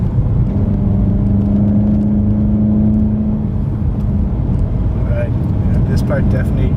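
A car accelerates hard at around 60 miles an hour on a winding mountain road up Mary's Peak. The engine drones loud and steady from inside the cabin, its pitch holding and then easing, with a voice talking over it.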